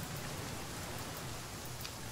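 Steady rainfall in the survival game The Flame In The Flood, a continuous, even hiss of rain on surfaces, fairly soft, with no voices or other sounds.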